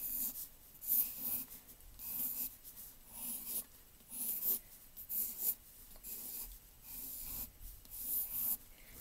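A pencil sketches a simple flower on paper in soft, scratchy strokes that come in short repeated bursts with brief pauses between them. The sound is close and quiet, with no speech.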